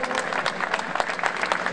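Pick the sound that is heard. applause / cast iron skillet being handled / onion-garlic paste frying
applause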